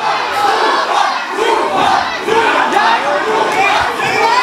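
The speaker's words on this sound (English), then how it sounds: "The crowd getting behind him now." The crowd at a Dutch-style kickboxing event cheers and shouts in a dense, continuous roar with rising and falling yells, and a commentator talks faintly beneath it.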